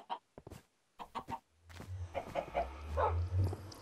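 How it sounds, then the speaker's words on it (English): Chickens clucking in the Minecraft video game: a few short, quiet cluck bursts at first, then a denser stretch of overlapping fowl calls over a low rumbling game background, moderately loud. "There was a lot of freaking chickens everywhere"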